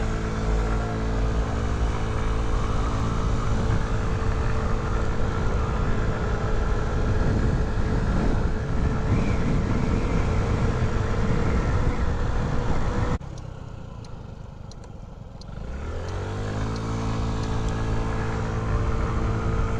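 A stock Honda Ruckus scooter running flat out at top speed, its small engine droning steadily with heavy road and wind noise, then briefly easing off before the buzz builds again.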